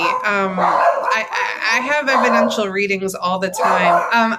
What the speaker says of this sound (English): So you will hear some barking still,